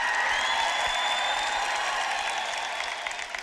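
People seated on one side of a hall applaud in a sustained, fairly even patter that stays strong and then eases slightly toward the end, with no talking over it.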